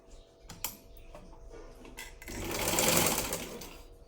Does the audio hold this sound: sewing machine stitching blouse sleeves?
yes